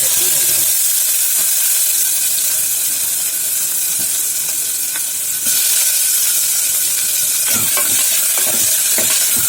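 Onion fries with cinnamon and cloves in a pan for chicken biryani, giving a steady close sizzle and hiss broken by occasional stirring scrapes, loudest toward the end.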